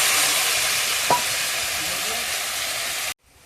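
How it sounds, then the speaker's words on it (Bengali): Colocasia (taro) greens hit hot oil and sizzle with a loud, continuous frying hiss, one faint clink partway through, before stopping suddenly. "কচু শাকটা তেলের উপরে দিয়ে দিলাম।"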